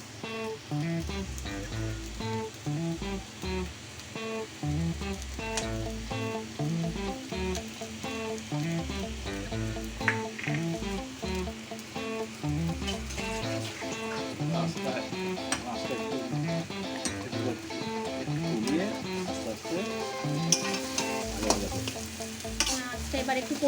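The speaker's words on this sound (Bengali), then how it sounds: "নিয়ে এবার আস্তে আস্তে আপনাকে ক্রমাগত এটা ভাজতে হবে" A spoon stirs boiled fish and potato mash as it fries in a pan, giving a steady sizzle with repeated scraping strokes that run close and continuous throughout.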